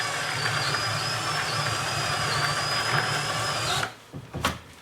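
A power tool cuts a hole into a plastic EPA-style gasoline can, giving a steady close whining, grinding drone for nearly four seconds. It then stops abruptly and a few brief clatters follow.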